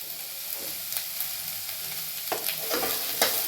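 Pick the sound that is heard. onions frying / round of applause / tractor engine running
onions frying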